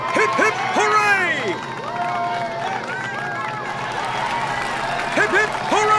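A game crowd in Neverwinter Nights 2 cheers for the Harvest Champions, with voices rising and falling in repeated swooping hurrahs and a steady babble of many people throughout.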